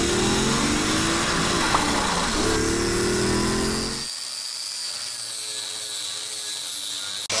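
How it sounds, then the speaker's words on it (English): An angle grinder cuts away an old roll cage inside a Nissan 240sx, a loud, harsh metallic whine that runs for about four seconds and then drops off, leaving a quieter hum with faint tones. "So Devin just grinded away a piece of the old cage that was on this half of the car."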